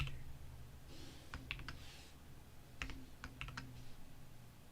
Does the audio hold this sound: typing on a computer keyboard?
yes